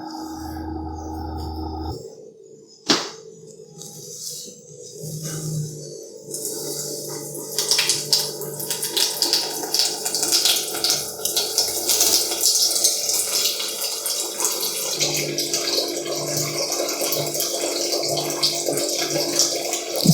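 A Waterdrop RO A1 reverse osmosis filter system flushing water into a container: a low mechanical hum gives way to loud, continuous running and splashing water that builds and stays steady.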